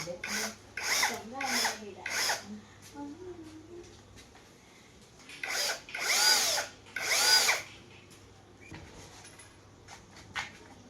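A power drill bores into a broken ping pong paddle made of wood in several loud bursts, starting and stopping in an irregular rhythm with short quiet gaps between them. A steady low hum runs underneath.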